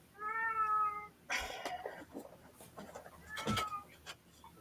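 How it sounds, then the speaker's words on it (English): A cat wails with long, drawn-out meows, two loud cries separated by rustling and small knocks nearby. "Let the cat wail as background noise to the story."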